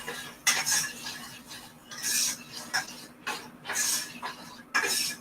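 Chopped walnuts and almonds being stirred in a hot pan as they roast, giving repeated bursts of scraping and rattling, near and moderately loud, with quiet gaps between strokes.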